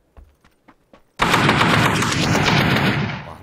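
A few quiet single shots in the PUBG battle royale game give way to a sudden, loud sustained burst of rapid automatic gunfire that roars densely for a couple of seconds.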